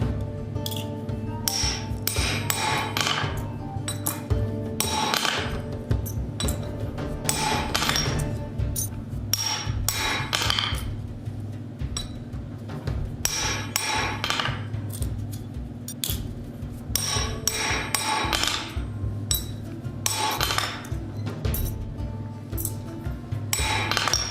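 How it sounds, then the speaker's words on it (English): A metal gauntlet finger scale is tapped into place with a 7/8 round bar, producing a long run of quick, bright metallic taps and clinks. The strikes come in uneven bursts, close and fairly loud. "with a 7/8 round bar, just tap it into place"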